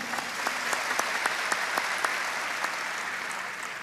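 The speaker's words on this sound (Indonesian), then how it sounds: "Tepuk tangan yang meriah Pak gitu." Congregation applauding during a church service, a steady dense clatter of many hands clapping close by, continuous and fairly loud with no talk over it.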